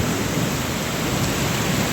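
A constant wash of heavy rainfall fills the air, steady and broadband, with a faint low rumble beneath; no voices.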